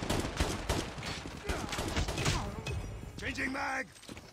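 Pistol shots from a handgun in the mobile shooter Call of Duty Mobile ring out in a quick burst of loud, sharp cracks amid game noise, followed by a brief electronic tone near the end.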